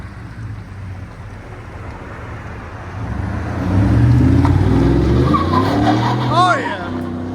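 A 2018 Ford F-150 with a 5.0L Coyote V8 and a Borla Sportsman exhaust revs and pulls away, its engine note rising into a loud roar with a brief tire squeal, while people talk nearby.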